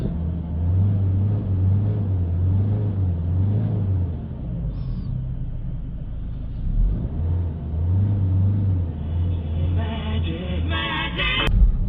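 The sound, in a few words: Peugeot 3008 2.0 HDi car on a test drive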